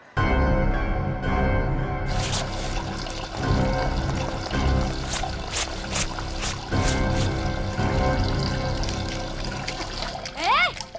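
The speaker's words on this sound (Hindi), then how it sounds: "दिख नहीं रहा है मैं कपड़े धो रही हूँ" Water splashes and pours loudly and nearly continuously as clothes are washed by hand, with sharp bursts and trickles throughout. A voice briefly joins near the end.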